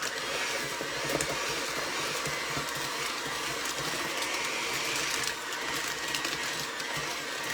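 Electric hand mixer whirring steadily through keto chocolate chip cookie dough with egg, a continuous close buzzing motor drone with slight wobbles in pitch and no talking.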